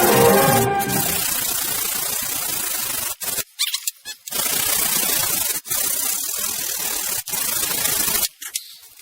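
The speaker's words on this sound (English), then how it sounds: "I think it's going to take a little sandpaper and see how good I can get this." Sandpaper rasps steadily over the painted numbers on a cheap combination square in long, harsh strokes, broken by several short pauses.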